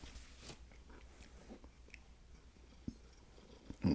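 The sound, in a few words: eating a Hardee's burger and fries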